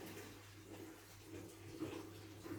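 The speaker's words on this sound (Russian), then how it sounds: "вода стечет с риса" Water drains steadily from freshly rinsed rice in a kitchen, a faint, continuous trickling wash with a low hum underneath.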